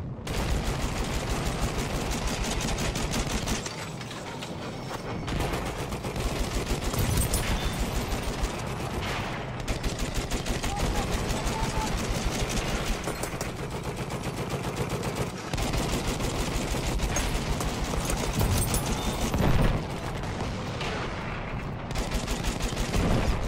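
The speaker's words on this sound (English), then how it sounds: "Machine gun" Sustained machine gun fire in a Battlefield 1 match, with dense, loud rapid bursts across the whole stretch and a few short pauses between volleys, no talk.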